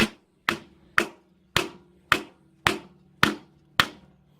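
Eight sharp hammer blows land at a steady, even rhythm on a Toyota MR2 gearbox during an output seal replacement. Each strike is loud and close with a short ringing decay, and no one speaks.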